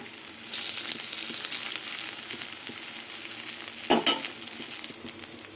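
Malabar spinach leaf fritters made with pea lentils fry steadily in a pan with a continuous close sizzle, broken near the end by a brief loud clatter as the fritters are stirred or turned.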